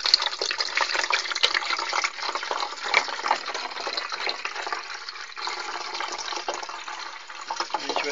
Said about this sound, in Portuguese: Bom, a gente tá colocando a água aqui, ó.